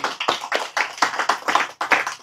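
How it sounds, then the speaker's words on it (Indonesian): An audience at a talk at an Islamic study campus claps hands together in short, rhythmic bursts, fairly close and loud, with brief pauses between the rounds of clapping. "Tepuk tangan."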